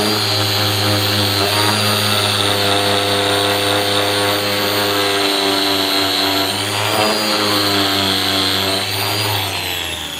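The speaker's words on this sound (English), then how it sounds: "so we'll go ahead and sand that out" A sander runs continuously and loudly close by on an epoxy resin surface to smooth out a small imperfection, making a steady droning whine with slight pitch shifts and no pauses.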